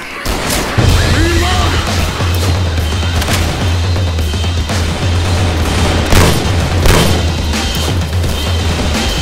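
A grenade goes off in the Left 4 Dead zombie shooter, a loud booming blast followed by sustained low rumble and crackling debris. Shouted voices mix with the chaos.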